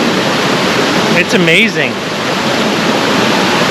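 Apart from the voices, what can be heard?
waterfall rushing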